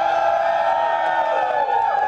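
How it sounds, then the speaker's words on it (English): Newcastle fans of the Toon Army cheer at a Newcastle vs Everton match in a sustained, even roar. The crowd sound stays dense and loud throughout, with no distinct break. "that's the first cheer"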